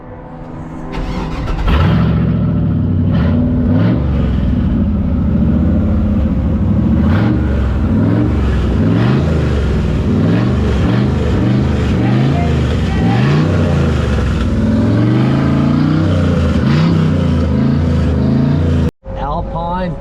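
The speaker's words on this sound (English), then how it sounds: "actually see these little race cars zipping by here" Race cars at the Hockenheim Ring roar past one after another, their engines revving and rising and falling in pitch as they pass, loud and close, with a voice talking over them.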